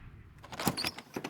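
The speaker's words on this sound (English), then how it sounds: "You open the cabin door." Wooden cabin door opening in the video game Slay the Princess: a short, soft creak and rattle lasting about a second, with a faint latch click near the end.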